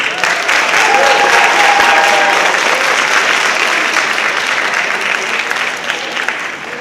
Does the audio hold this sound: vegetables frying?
no